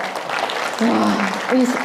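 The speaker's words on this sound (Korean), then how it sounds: "박수 한번 주실까요?" Seminar audience applauding a participant, a steady wash of clapping with a voice cutting in over it near the end.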